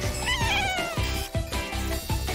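A cat meows repeatedly in close, loud, drawn-out calls with a rising, wailing tone, several cries in a row with no talking.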